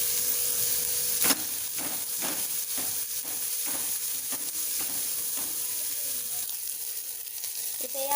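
Onion frying in a pan with ginger-garlic paste, a steady close sizzle with a dozen soft, evenly spaced stirring scrapes throughout and no voices.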